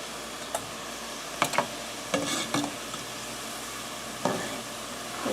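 Struffoli dough balls frying in a pot of hot oil give a steady sizzle, with a few sharp ticks and clinks of stirring against the pot up close.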